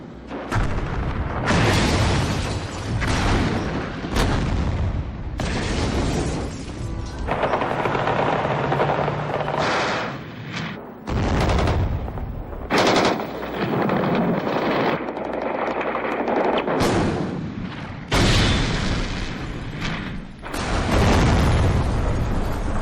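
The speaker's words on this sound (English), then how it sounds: "he ordered troops to storm the White House, shelling the very building he had defended 2 years earlier" Troops shelling the Moscow White House: heavy sustained gunfire and machine-gun bursts mixed with booming blasts, loud and dense throughout with little pause, no voices.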